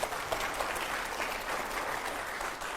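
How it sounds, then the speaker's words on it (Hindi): Studio audience at a Hindi TV interview show gives steady applause, a dense patter of many hands clapping at a moderate distance for the whole stretch. "जोरदार तालियां हो जाए जरा एक बार।"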